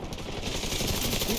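Continuous rapid automatic gunfire from The Division 2 rattles without a break, loud and dense, with no pauses.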